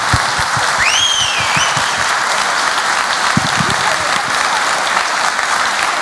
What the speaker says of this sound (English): So you've got time for clapping now.